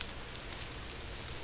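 Rain falls steadily in the video game Rising World, a soft continuous patter of drops on surfaces, faint and even with no voices.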